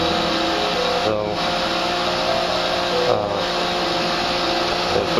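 A vacuum pump runs steadily on an HVAC system, drawing air in through a leaking coil; a continuous loud mechanical drone with a few brief dips, heard close and alone.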